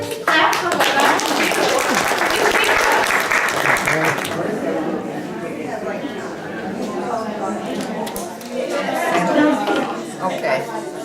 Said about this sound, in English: Clap for what God has